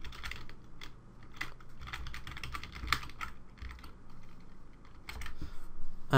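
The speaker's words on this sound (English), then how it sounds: "So we just type in site name" Bursts of close, crisp keystrokes on a computer keyboard while filling in WordPress site details, typed in short irregular runs with brief pauses and no voice.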